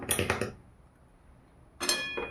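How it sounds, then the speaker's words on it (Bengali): A metal wok is set down on a gas stove while making chhanar payesh, giving two short clattering clinks with a quiet pause between, close and clear with no talking. "কড়াই বসিয়ে দিলাম"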